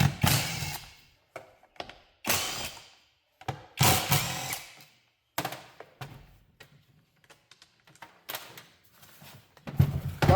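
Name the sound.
unscrewing cover screws on Stihl MS311 chainsaw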